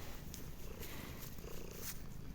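A cat purrs steadily and close up for a couple of seconds in a quiet rural village setting, a soft continuous rumble with no talking over it.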